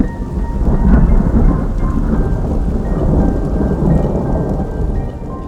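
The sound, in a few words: thunderstorm with rain while hiking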